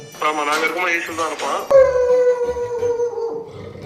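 A dog or wolf gives a long, wavering howl that rises and then trails off, following a brief burst of voices.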